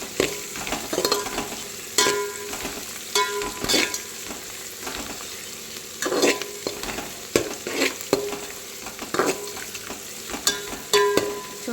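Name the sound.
onions, spices, green chillies, coriander and curry leaves frying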